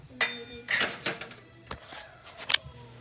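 Metal baking pans clatter and clink in a home kitchen during Japanese fluffy cheesecake preparation, several sharp bright knocks and scrapes spread irregularly over a few seconds, close and fairly loud.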